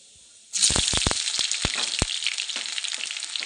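Onion hits hot mustard oil with nigella seeds and bursts into a loud sizzle, several sharp pops and crackles in the first seconds, then a steady close frying hiss with no talking.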